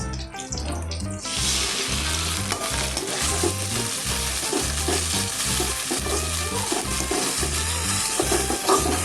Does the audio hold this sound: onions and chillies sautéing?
yes